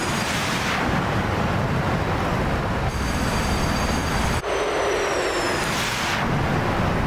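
In the DCS combat flight simulator, a B-1R bomber takes off with a loud, continuous jet roar that swells and shifts in tone, filling the whole stretch with no talk.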